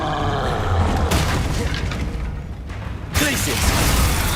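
Confringo fire spell blasts in Hogwarts Legacy, a dense booming burst with rushing whooshes that swells loud and steady, broken by a brief drop before another blast hits, with a voice briefly heard over the combat.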